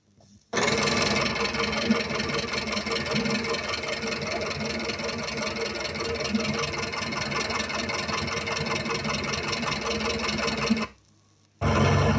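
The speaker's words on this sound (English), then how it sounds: "Here's a fine set of faulty tappets on a 4-cylinder engine" A four-cylinder engine idles steadily with a rapid, rattling tick of loose tappets running over the hum, then cuts off near the end.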